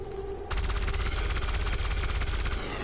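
Loud gunfire from the video game XCOM 2 erupts after a brief quiet hum and continues as a dense, rapid automatic burst to the end, with no voices.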